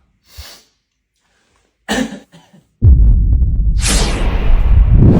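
A few short coughs close by, separated by pauses, followed by a loud, sustained rumbling noise that dominates the rest of the clip.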